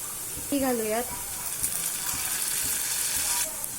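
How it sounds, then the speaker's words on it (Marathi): Chopped garlic frying with onions in a pan, a steady close hiss of sizzling oil throughout, with a brief voice-like tone near the start. "आता आपण चिरलेला लसूण घालूयात"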